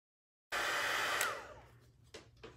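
A heat tool blowing hot air over a silicone mat while drying card-making work switches on abruptly, gives a loud steady whoosh, then fades. A couple of short clicks follow.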